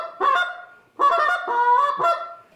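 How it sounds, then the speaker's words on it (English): Canada geese honking in a close, loud series of three nasal calls with short gaps between them, with no talk. "you'll hear these sounds if you've ever listened to geese"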